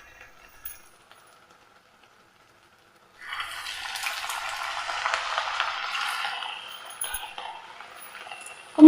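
Rava and coconut snack sizzles in hot oil, a soft steady crackle that begins after a few seconds of near silence, with a faint clink and a sharp knock at the end.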